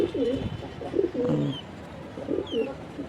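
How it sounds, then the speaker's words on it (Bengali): Pigeons coo repeatedly in low, rounded bursts close by, with a few brief higher bird chirps mixed in against steady background noise. "কত সুন্দর এই কবুতরটা"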